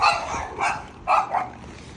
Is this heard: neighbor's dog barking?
yes